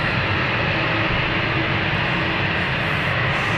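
An Albany Air Services aircraft passes near London City Airport, heard as a steady, broad engine roar that stays loud and even throughout without any voices.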